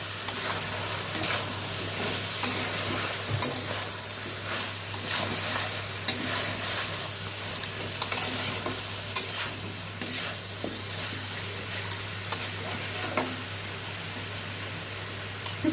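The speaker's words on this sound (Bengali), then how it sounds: "তো এখন ভালোভাবে নেড়ে চেড়ে নিই।" Drumstick vegetable curry with Kashmiri chili powder and turmeric stirred in a hot pan, a steady sizzle under repeated scraping strokes of a spatula, close and constant, with no talking.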